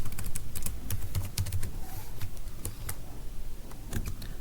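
Code is typed on a computer keyboard in a steady run of close, crisp key clicks, uneven in rhythm, with a few louder keystrokes standing out and no talking over it.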